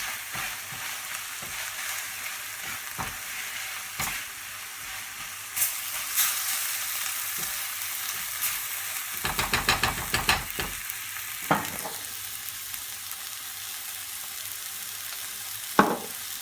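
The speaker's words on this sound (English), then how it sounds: "cook a bit more, get some colour in the chicken" Chicken pieces sizzle and fry steadily in a hot pan for a fruity chicken curry, with occasional stirring scrapes and clatters, close and continuous, no talking.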